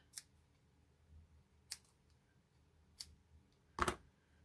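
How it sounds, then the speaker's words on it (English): Craft snips cutting ribbon in a few sharp, separate snaps spaced a second or more apart, close and crisp in an otherwise quiet room. "All right, get my snips."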